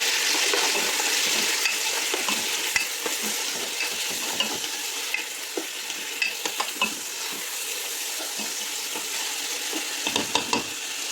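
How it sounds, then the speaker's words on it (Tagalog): Seasoned chopsuey with chicken is stirred in a hot frying pan, a steady sizzle running throughout with scattered light scrapes and clinks of the utensil against the pan, close and moderately loud, with no talking. "haluin na natin"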